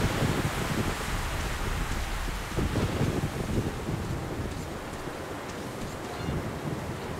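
Strong wind roars and buffets across a ruined bridge in the video game Metro Last Light, a loud, continuous, rushing blast that surges and eases slightly, with no talk over it.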